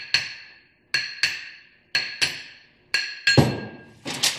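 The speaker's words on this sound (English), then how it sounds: "Now we can just take a brass hammer and knock the ring gear off." Repeated sharp metallic knocks of a brass hammer on a Land Cruiser ring gear, about two per second in spaced pairs, each ringing briefly, close and clear.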